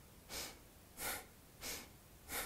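Deep yoga breaths during a gentle session, four slow airy breath sounds spaced evenly, each swelling and fading, close and soft with no talking.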